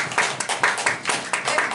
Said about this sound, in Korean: 박수 한번 치고 시작할까요?